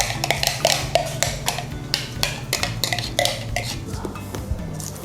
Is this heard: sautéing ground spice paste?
yes